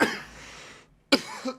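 A person with a really bad throat coughs hard once, goes quiet for a moment, then gives a second short burst of coughing, close and loud.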